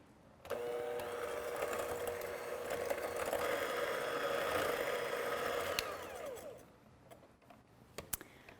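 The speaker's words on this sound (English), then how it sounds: "we're going to mix these up with a hand mixer for about 3 minutes until they're light and creamy" A hand mixer whips egg yolks with sweetener in a kitchen, a loud steady motorized whir that starts abruptly, runs for about five seconds, then winds down, followed by faint clicks and clatter.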